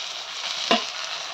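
Fried fish is stirred with onion in a hot oiled pan, giving a brief, steady sizzle with one short scrape of the spatula midway.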